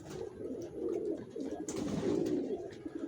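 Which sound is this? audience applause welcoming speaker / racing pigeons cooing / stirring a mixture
racing pigeons cooing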